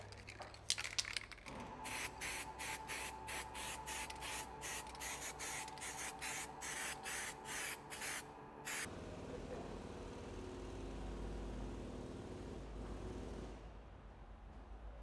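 Developer spray from an aerosol can is applied to a metal disc for crack detection: a rapid series of short, close hissing bursts, then one long steady spray hiss over a low background hum.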